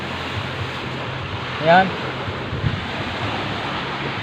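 Sea waves washing in at a beach in Pioduran, Albay, a steady broadband wash of moderately rough surf with wind noise, with a brief voice heard near the middle.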